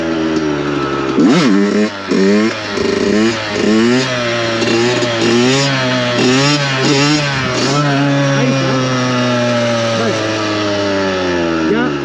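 A Yamaha YZ 125 two-stroke motocross bike revs hard to lift a wheelie, its engine rising and falling in a series of sharp, loud blips before settling into a steady high drone, close to the microphone.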